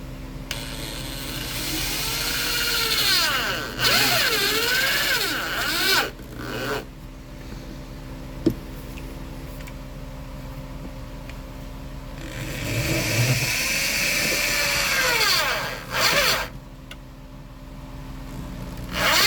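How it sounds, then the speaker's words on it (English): A power drill drives screws into the heater box of a 1987 Dodge D100 pickup, with several long whining bursts that rise in pitch, separated by brief pauses, loud and close. "Right now I'm just making sure that when I'm putting these screws in, I'm not screwing into the heater core"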